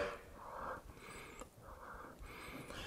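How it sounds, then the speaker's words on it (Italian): Soft, airy breaths pulsing in and out against a hollow surface, three slow cycles with a faint resonant wheeze, close and quiet. "provare a respirare all'interno di un bicchiere"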